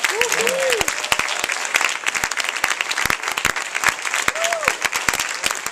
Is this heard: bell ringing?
no